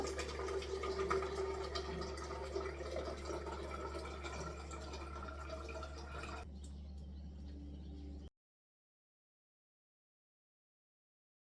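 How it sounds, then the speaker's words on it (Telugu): Water bottles being filled with water, a steady close pouring rush that shifts in tone as the bottles fill, then stops and gives way to silence; no speech. "ఇద్దరికి వాటర్ బాటిల్ అయితే వాటర్ ఫిల్ చేస్తున్నాను"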